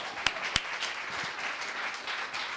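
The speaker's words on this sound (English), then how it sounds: "Give her a round of applause." A room full of people at a talk applauds a speaker, dense continuous clapping with a couple of sharp, close hand claps standing out near the start, steady throughout.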